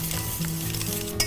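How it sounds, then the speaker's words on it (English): Brief burst of eggs being whisked in a bowl with vanilla for paleo banana bread: continuous close scraping strokes of the whisk, steady and unbroken, with a slightly sharper clink right at the end and no voices. "you're just gonna want to whisk this until the eggs are broken up"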